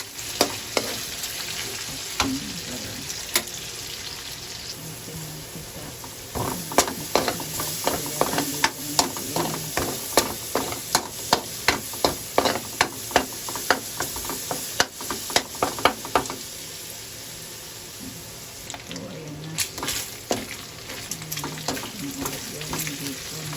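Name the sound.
garlic and onions frying in a pan for carbonara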